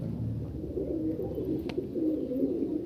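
Pigeons at a show of fancy Andhra breeds coo in soft, low, rolling phrases, close and repeated throughout with one brief sharp click, no talking.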